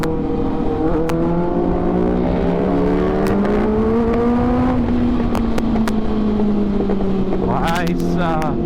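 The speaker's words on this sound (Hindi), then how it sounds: "भाई एप्रिलिया में भी वही एग्जॉस्ट लगा हुआ जो अपने 6R में है, और वो भी बहुत अच्छी है लाउडनेस में" Aprilia sport motorcycle fitted with the same exhaust as a Kawasaki Ninja ZX-6R, engine note droning loud and close with steady harmonic revs that rise and ease, ending in a sharper rev burst, while people talk over it.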